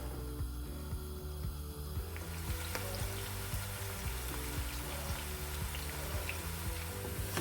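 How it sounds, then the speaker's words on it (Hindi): Onions frying in cooking oil in a pan over a gas flame, a continuous close sizzle with faint clicking and clattering mixed in, no talk. "गैस की फ्लेम ऑन कर दूंगी। और साथ ही इसके मैं और प्याज भी डाल दूंगी मैं।"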